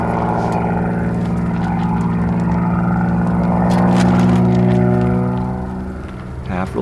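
An aerobatic propeller plane flies a hammerhead with a quarter roll up and half roll down at an aerobatic contest, its engine a loud, steady drone with strong tonal harmonics that swells and then fades toward the end.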